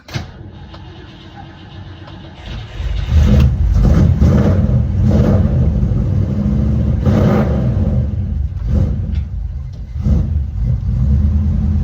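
A Ford Zephyr hot rod engine idles with a low, steady rumble, then swells into a louder, rough running note as the car begins to move off, holding a deep, close, continuous drone.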